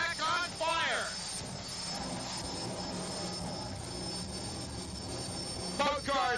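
Jet-powered drag race cars with Westinghouse J34 jet engines of 6,000 pounds thrust and afterburners fed raw jet fuel. A broad, sustained roar carries from a distance, with rising whines sweeping in at the start and again near the end.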